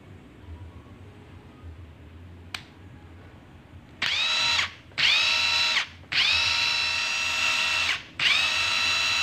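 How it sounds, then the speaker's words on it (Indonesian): Makita DTW1001 cordless impact wrench running after a jam repair in a workshop: a sharp click, then four loud bursts of high-pitched whirring and hammering separated by short pauses. "Oke, teman-teman, impact kita bisa berfungsi kembali ya."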